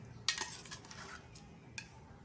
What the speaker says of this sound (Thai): ตัก น้ำแกงกับกุ้งนะคะลงโรยบนตัว ของชะอมไข่นะคะ